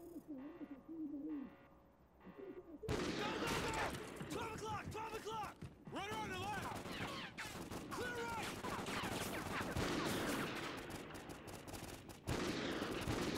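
Remote sniper fire in the video game Call of Duty Ghosts, with sharp shots breaking out after a quiet opening, then a dense, loud stretch of gunfire and game effects mixed with voices.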